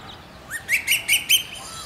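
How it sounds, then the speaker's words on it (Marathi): An Asian koel calls in a short series of about five rising, whistled notes repeated in quick rhythm, clear and fairly close, with a quiet background and no speech. "कोकिळेचा आवाज हा असा"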